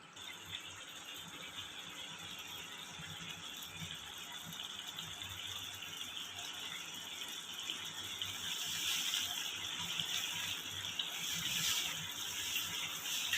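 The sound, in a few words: capsicum gravy boiling in pan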